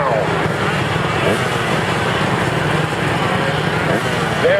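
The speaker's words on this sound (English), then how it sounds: "it is good to hear the 2-stroke here at Hangtown" A two-stroke motocross motorcycle races at Hangtown, its engine a steady, continuous buzz throughout, with rising and falling revs and a voice talking over it.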